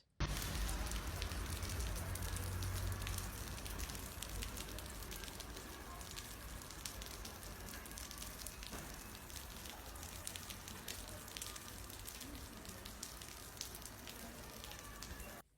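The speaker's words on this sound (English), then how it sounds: "As you can see, it's raining, but it's in a very small and confined area." Pouring rain confined to a very small area, a steady dense hiss of drops hitting a surface that stays loud and even for about fifteen seconds, with no voices.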